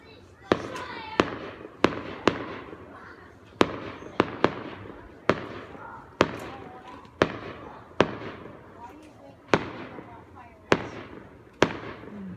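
Fireworks bursting in a quick irregular string of a dozen or more sharp bangs, some echoing, with people talking between the blasts.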